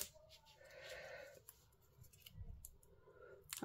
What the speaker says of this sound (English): I need to clean my scissors before they're live.